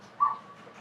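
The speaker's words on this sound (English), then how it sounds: "and dogs that won't shut up." A dog somewhere in the home gives a single short, faint whimper or yelp in the background, alone with no talk over it.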